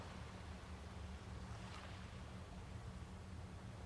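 Recorded ocean waves played back from a loop station during a live sound bath with flutes and bowls: a steady, continuous wash of surf with low rumble, even in level throughout, no voices.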